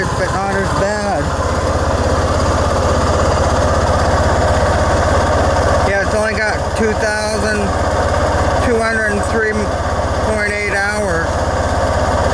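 A Honda Rancher ATV engine with a modified, quieter exhaust idles in a steady close buzzing drone, with someone talking over it in several bursts.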